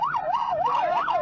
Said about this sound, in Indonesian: Polisi membunyikan sirine meminta motor yang menerobos terowongan Xuesan untuk berhenti